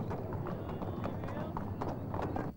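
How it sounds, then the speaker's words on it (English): Racehorses gallop in a televised race, their hoofbeats a steady rumbling clatter under continuous commentary. "And the last horse down will be the Fraser Hurley train"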